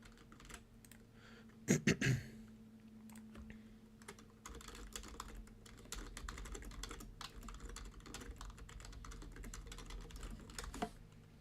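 Typing on a computer keyboard while coding a password input for a GUI, with a loud cluster of key clacks early on, then a steady run of lighter, rapid keystrokes over a faint background hum.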